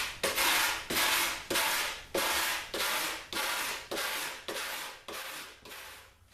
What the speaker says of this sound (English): There's like a shine on here, and you gotta rub all the shine off so the glue